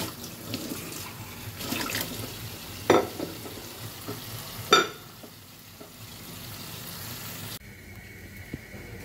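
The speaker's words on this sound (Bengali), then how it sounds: "টুকিটাকি যে কাপগুলা থাকে আমি এগুলো নিজে হাতে ধুয়ে রেখে দিই" Tea cups washed by hand under a running tap at a kitchen sink, with water splashing, a couple of sharp clinks of crockery, then the flow cutting off.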